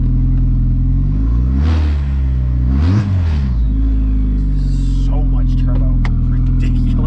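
A turbocharged MK3 Toyota Supra idles with a deep, steady rumble, then revs twice in quick swells that rise and fall back to idle, loud and close, with some chatter at the end.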